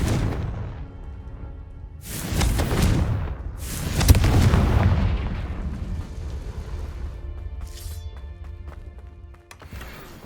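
A Confringo explosive spell from Hogwarts Legacy goes off in two heavy booming blasts around two and four seconds, each followed by a rumbling decay, with crackling debris and fainter bursts afterward and a sharp hit near the end.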